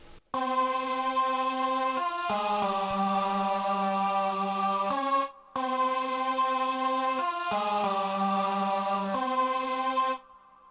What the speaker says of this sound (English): which is actually a string, but because it sounds like a choir to me I just labeled it as a choir